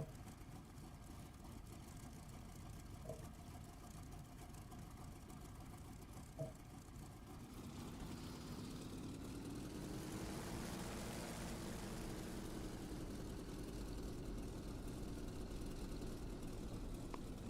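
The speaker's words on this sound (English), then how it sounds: "Corsair takeoff." A propeller-driven F4U Corsair in the DCS combat flight game spools up from a steady idle into a louder, broadband engine roar for takeoff, with the drone swelling and holding from about midway on.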